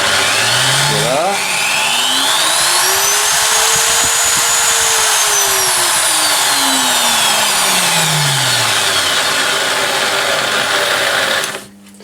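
An electric drill run through a 2000 W triac speed controller whines as its pitch sweeps smoothly up to a peak and back down again, a steady, loud motor tone that cuts off at the end.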